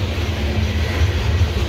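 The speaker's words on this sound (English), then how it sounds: "It's a longer train" A long CSX coal train on the old B&O mainline grade gives off a steady low rumble that holds without a break for the whole moment, with no voices.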